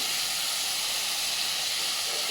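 Spices fry in a pan while the masala is cooked down, giving a constant, loud, hissing sizzle with no breaks and no voices.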